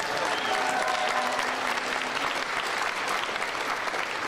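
Audience applause at an NFL draft countdown event in Green Bay for the Packers draft organisers, a steady sustained wash of many hands with some crowd noise.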